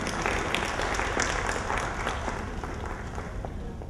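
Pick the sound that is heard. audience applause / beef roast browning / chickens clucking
audience applause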